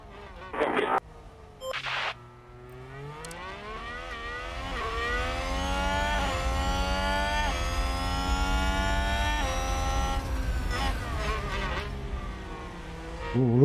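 A tyre lock-up in the F1 Manager 2022 racing game: a Williams Formula 1 car's engine note swoops and sustains loudly with rising, falling pitch, preceded by brief bursts, the screech blending into the engine drone without speech.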